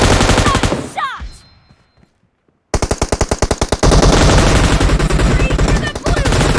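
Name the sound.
machine gun fire in the video game PUBG Mobile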